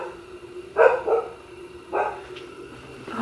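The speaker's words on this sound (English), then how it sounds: "that's Indy barking, if you can hear her" A dog barks a few times at a moderate distance, two main barks separated by a pause with softer yips between.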